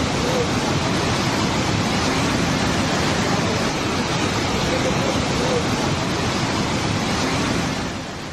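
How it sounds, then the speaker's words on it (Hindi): The flooded Beas River rushing in spate right up against a bridge, a loud, steady roar of churning water that fills the whole stretch without a break. "ब्यास नदी में ऐसा उफान आया कि उसके ऊपर बने पुल को छूते हुए नदी बहती हुई नजर आ रही"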